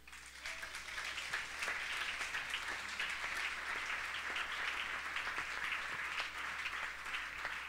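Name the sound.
church congregation applauding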